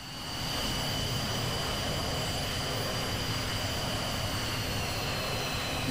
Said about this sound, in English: Once the engine has spooled up all the way